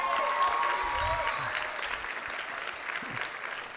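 Steady, full applause from a commencement ceremony audience, a dense crowd of clapping hands that continues throughout with some voices and cheers underneath.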